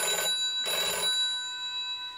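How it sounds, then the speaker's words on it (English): Vintage telephone with a MIDI refurbishment, its bell ringing in two bright metallic bursts, then a lingering ringing tone that fades, close and clear with no talk. "Genuine ring."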